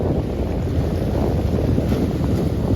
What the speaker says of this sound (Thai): โอ้ลมเย็นดี